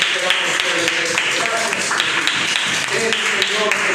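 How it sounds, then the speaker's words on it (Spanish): Loud, sustained applause and clapping from a congregation during a church service, a dense wash of claps filling the space, with cheering voices mixed in throughout. "vamos a darle un fuerte y gran aplauso a este Señor"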